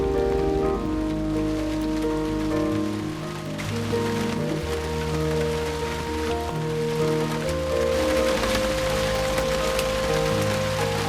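Steady rain falls at a homestead, a dense, even hiss of drops on surfaces that continues throughout over a low background drone.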